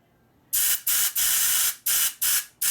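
Compressed air is blown through a lifter from a 1988 Harley FXR in about six sharp, loud hissing bursts separated by short silent gaps.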